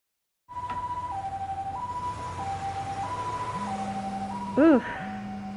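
Ambulance siren in the video game Lost Judgment, a loud two-tone wail alternating steadily and close, with a short burst of sweeping higher tone near the end.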